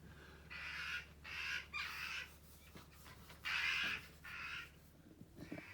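A jackdaw caws in a series of harsh, repeated calls near a canalside house, about six bursts in quick succession with short gaps, fairly close and loud over faint background.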